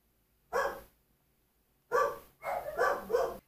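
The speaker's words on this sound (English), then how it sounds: "Sorry about my dog barking in the background." A dog barks close by, one bark followed by a pause, then a quick run of three more barks.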